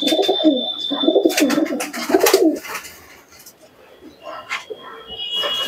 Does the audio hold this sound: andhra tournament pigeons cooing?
yes